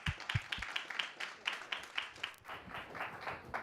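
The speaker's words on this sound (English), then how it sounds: "Let's give him a round of applause." An audience applauds to welcome a speaker to the stage, a fairly quiet, loose patter of hand claps with some closer, heavier claps at the start before the sound settles into a soft, even clapping.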